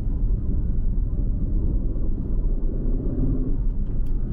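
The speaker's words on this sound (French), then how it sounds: "on roule à 1500 tours, on accélère en 4, on est à 80" Aston Martin Vantage F1 Edition engine pulling in fourth gear from about 1500 rpm, a steady, deep, loud rumble building gradually with no talk over it.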